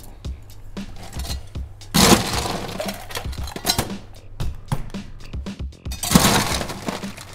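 Ice cubes go into a cocktail glass while a Singapore Sling is mixed with Cherry Heering, giving two loud bursts of clattering, cracking ice with lighter clinks and handling noise between them.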